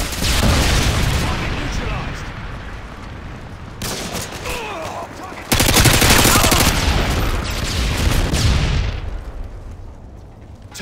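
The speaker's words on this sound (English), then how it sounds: "Friendly Predator missile inbound." A Predator missile strike explosion in Modern Warfare 2 team deathmatch on the Scrapyard map, loud booming blasts and rumbling gunfire in two heavy bursts, fading out toward the end.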